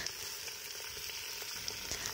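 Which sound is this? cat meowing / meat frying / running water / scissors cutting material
meat frying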